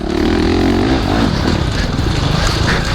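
A 2017 Honda CRF 450 dirt bike engine drones steadily under load in a long gear on a test ride, loud and close with a rough, throbbing tone and a brief rising rev near the start.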